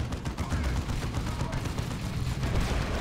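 Plasma cannon fire rings out in a Dawn of War 2: Retribution 1v1 battle, blended into a continuous din of gunfire and explosions.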